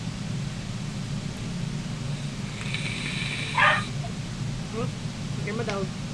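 A dog gives a few faint yips and whimpers, spaced out near the end, under a constant hiss of static from an unstable connection.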